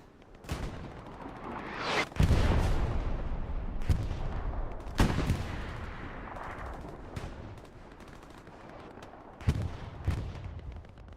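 Gunfire in the World War II shooter Hell Let Loose includes machine gun fire, with loud booming shots and rattling bursts at irregular intervals, some close and heavy, others more distant, and no voices.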